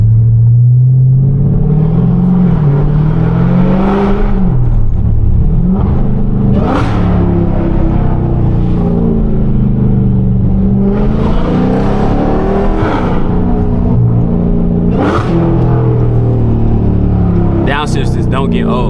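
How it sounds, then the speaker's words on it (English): A Dodge Hellcat's engine rumbles loud and close while cruising through downtown Charlotte, with several sharp revving blips from downshifts standing out over a steady low drone. "Downshifts don't get old"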